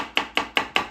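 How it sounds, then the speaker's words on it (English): A fresh, home-grown garden pumpkin being roughly chopped with a knife, four sharp, evenly spaced thuds of the blade striking the board in quick succession, close and clear with no talk. "I'm just roughly chopping the pumpkin"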